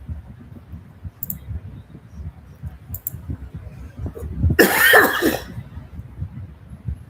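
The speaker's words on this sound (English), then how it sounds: "Still coughing." A single harsh cough bursts out midway, close and loud, over a faint low background murmur.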